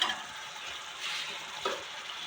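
Greens and tomatoes are stirred in a hot pan, giving a soft scraping and faint sizzle with a couple of brief louder scrapes, quiet and close.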